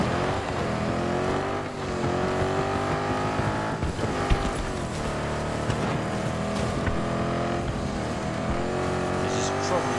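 A car driving in Battlefield 2042, its engine a steady loud drone under game music and effects, with a player talking over it throughout.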